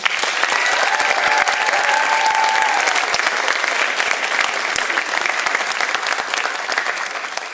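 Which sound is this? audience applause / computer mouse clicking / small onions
audience applause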